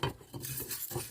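Soybeans, about 50 g, toasting lightly in a small pan: brief stirring scrapes and faint dry rustling, close and quiet, with no talking.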